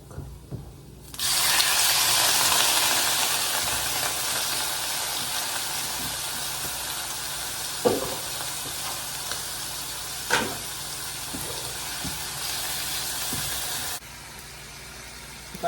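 Pork and garlic frying in a pan for adobo give a loud, steady hiss that starts abruptly and stops just as suddenly, with a few sharp clicks and pops along the way.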